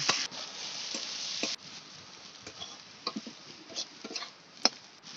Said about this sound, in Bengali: এই পেঁয়াজটা ভেজে আমি বেরেস্তা করব